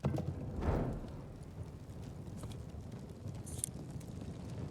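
Horses' hooves clip-clop at a steady run, fairly close, over a low rumble of wind and ambient noise, in the video game Telltale's Game of Thrones.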